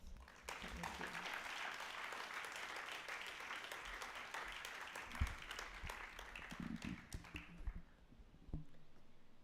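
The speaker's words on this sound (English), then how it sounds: "Once more, a big round of applause for our graduates" A graduation ceremony audience claps for the graduates, giving a sustained patter of applause for most of the clip that ends abruptly near the close. The sound is fairly faint and distant.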